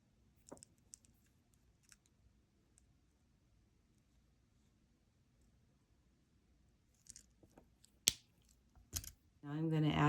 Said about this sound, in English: Then I'm going to cut off my wire.